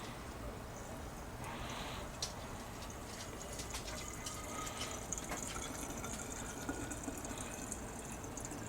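Fresh water is poured over sprouting beans in a home kitchen to rinse them, giving a steady, moderately loud splashing and trickling flow that runs continuously for several seconds with small clinks and drips on top.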